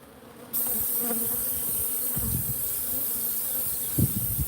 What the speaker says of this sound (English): And these are aggressive bees.